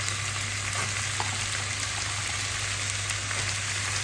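Potatoes and carrots sizzle in a hot frying pan, a steady, dense crackle that holds evenly throughout with scattered small pops and no voices.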